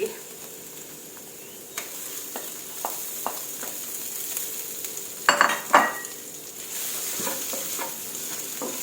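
Eggs being stir-fried with bamboo shoots in a pan, giving a steady close sizzle with scattered scraping stirs and a louder clatter of stirring partway through, with no talking.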